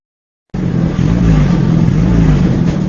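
A car engine idling with a leaking exhaust pipe rusted through with a hole, giving a loud, steady, rough rumble that starts abruptly and runs unbroken to the end.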